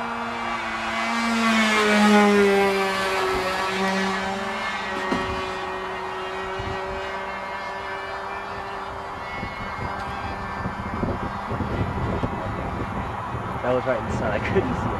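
Engine drone with a rising and falling pitch, like a small plane passing, loud at first then steadier, with people talking over it.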